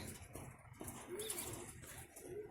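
Pet pigeons cooing softly on their first day out, a few low rolling coos heard faintly against a quiet outdoor background.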